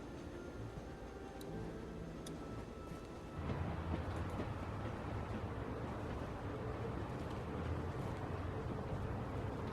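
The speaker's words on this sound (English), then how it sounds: "We need to stop this train." A train moving in The Walking Dead video game, a continuous rolling rumble with faint ticking and clatter that grows louder partway through and then holds steady.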